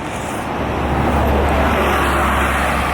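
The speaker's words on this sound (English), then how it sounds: "2 buses going past." Two buses pass along a roadway, a loud, close rush of engine and tyre noise swelling broadly and steadily across the moment with no one speaking.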